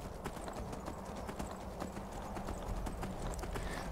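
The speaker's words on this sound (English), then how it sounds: "I definitely need a turbo boost on this horse." Horse hooves gallop steadily in Skyrim, a fast rhythmic clip-clop that runs throughout at close range, with no speech over it.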